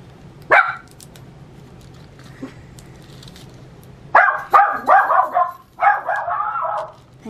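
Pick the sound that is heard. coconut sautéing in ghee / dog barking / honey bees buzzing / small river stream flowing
dog barking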